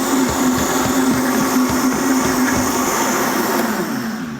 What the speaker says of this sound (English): Now the thing about a Vitamix though is that if you leave it on too long, this engine is so big, it'll actually cook it